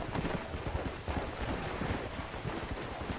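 Horse hooves clip-clopping in the video game Red Dead Redemption, a steady, fairly quiet rhythmic trot running throughout over a faint outdoor ambience, with no clear neigh standing out.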